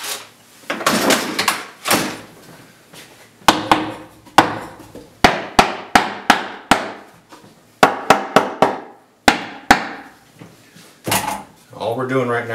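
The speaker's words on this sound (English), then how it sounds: "I've got a rubber mallet." Rubber mallet knocking together the parts of a wooden beehive body, a series of sharp, close thuds in irregular bursts, with brief talk at the start and end.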